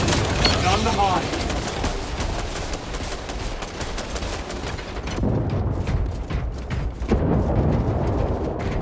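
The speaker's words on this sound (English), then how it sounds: "Throwing frag grenade." In the video game Space Marine 2, a frag grenade blast and dense gunfire crackle in rapid bursts, loud and close, with heavier booms near the end and a voice speaking over the fighting.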